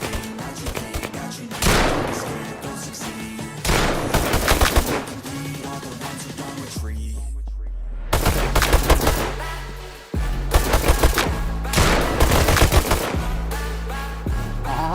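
Rapid gunfire in the shooter game Bullet Rain, loud bursts of automatic shots in several clusters with a brief quiet gap midway, sharp and close.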